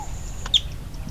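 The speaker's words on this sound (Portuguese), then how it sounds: "apareceu essa linda codorna do Nordeste na piscinona para beber água" A Northeastern Brazilian quail gives a single short, sharp chirp midway through, alone against a faint, steady outdoor background in the caatinga.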